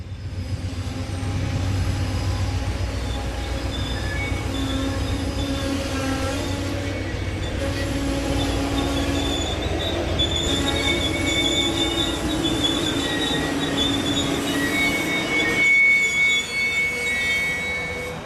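The Empire Builder passenger train rolls steadily into Havre, Montana, with high metallic wheel squeal ringing above the rumble, continuous and fairly close throughout.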